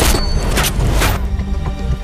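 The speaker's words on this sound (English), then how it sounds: "Name it and pull the trigger." A gunshot from a Hollywood action movie trailer: a heavy booming blast with a deep low-end thud and dense rumbling tail, loud and close, with no talk over it.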